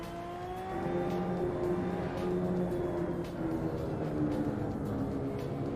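A steady, droning race car engine in a racing video game holds a constant pitch throughout, loud and continuous, with rough rumble from cobbled road underneath.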